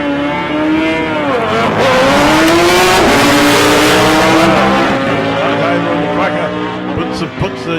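A V-Rod Harley-Davidson drag bike roars loudly down the strip in lane 2 during qualifying at South Coast Raceway, its engine note rising steadily under a continuous commentary voice.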